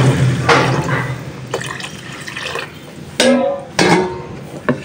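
Water is poured in several separate splashing bursts into chicken curry in a cooking pot, each pour brief and close, with quieter gaps between them.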